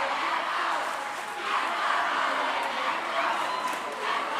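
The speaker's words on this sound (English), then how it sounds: "Crowd getting super loud here." Loud crowd noise swells at a Durban Girls versus Roedean school water polo match, a continuous roar of cheering and shouting with brief surges in intensity.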